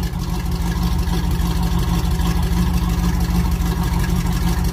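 A 1968 Chevy Camaro R/S with a repaired exhaust system and new muffler, its engine idling in a loud, steady, deep rumble with an even pulsing throb that holds unchanged throughout.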